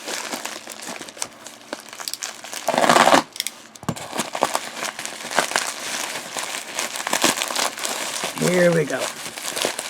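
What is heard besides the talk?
unwrapping a wrapped fountain pen package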